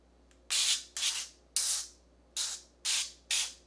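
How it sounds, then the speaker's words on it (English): Avocado oil cooking spray is sprayed into muffin tins in six short, sharp hissing bursts, each about half a second long and separated by brief pauses, loud and close with nothing else heard. "I'm almost out of avocado oil spray."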